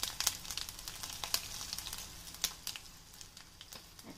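Jeera, red chili, curry leaves and hing sizzle in hot oil for a tempering, a faint continuous hiss dotted with quick pops and crackles.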